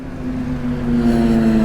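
A Kawasaki 6R superbike speeding past, a steady engine tone growing louder over a short moment amid wind noise.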